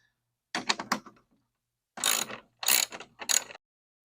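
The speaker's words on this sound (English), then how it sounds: "there's going to be 4 10mm grill fasteners that we're going to remove" A ratchet removes 10mm grille fasteners on a 2021+ Ford Bronco, giving close, quiet bursts of rapid clicking: one short run, a gap, then three more quick runs.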